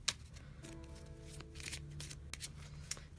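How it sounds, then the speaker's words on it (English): Tarot cards are shuffled and drawn from a deck, making soft, close papery riffles and slides with faint taps, quiet and without talk. "let's go ahead and pull some clarifying cards"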